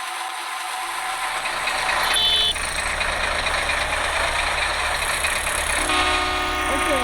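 Constant road traffic roars along a busy street, with passing vehicles, a horn-like tone and rattling engines forming a loud, unbroken wash of noise.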